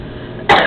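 A single short, loud cough or throat-clearing burst, close by, following a quiet stretch.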